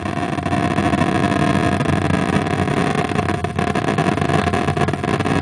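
Steady, loud engine-like roar of spaceship thrust in the Asteroids arcade game, run through a multigame interface, holding constant with a dense rumbling texture for the whole stretch.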